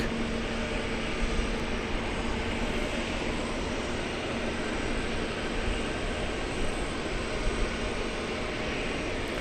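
An American Airlines Boeing 787 Dreamliner bound for London Heathrow roars at DFW Airport at night, a loud, steady, broadband jet rumble that stays constant throughout with no voices.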